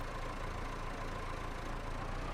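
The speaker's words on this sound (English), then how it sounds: "Can get in the tractor." A tractor engine idles in the Farming Simulator video game with a steady, even rumble that holds unchanged throughout, with no talking.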